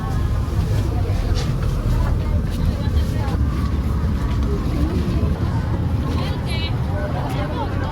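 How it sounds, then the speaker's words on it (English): A boat motors across open sea off the Dominican Republic, its steady engine drone blending with a constant rush of wind and water that fills the whole stretch, with muffled voices faintly under it. "Though we're on the boat."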